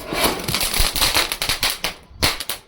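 A Kit Kat firecracker crackles loudly and close, a rapid burst of sharp pops and snaps that thins into scattered cracks toward the end.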